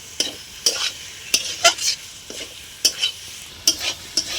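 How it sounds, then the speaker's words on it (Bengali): Taro stolons frying with turmeric, red chili and salt are stirred in a pan, giving a steady sizzle broken by repeated scraping strokes of a spatula at an uneven rhythm. "কচুর লতিটা দিয়ে দিলাম হলুদ দিয়ে দিলাম লাল লঙ্কা দিয়ে দিলাম স্বাদ মতো নুন দিয়ে দিলাম ভালো করে নেড়ে নেবো"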